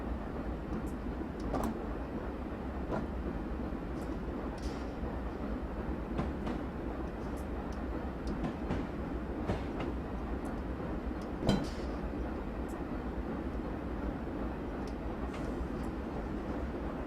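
CSX Dash 8-40CW freight train in Train Simulator rolling along quietly, with a low steady rumble and scattered faint clicks and clanks, one sharper knock near the end.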